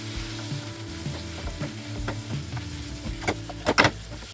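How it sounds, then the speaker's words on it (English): Meat browns in a hot pan for a Lancashire hotpot, a steady close sizzle and fry broken by scraping stirs and a couple of sharper utensil knocks near the end. "I'm going to brown it off all over"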